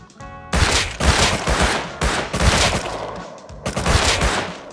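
Rapid bursts of gunfire in the survival game Rust during a fight with a scientist NPC at a frozen monument, loud and close, with dense volleys separated by brief pauses.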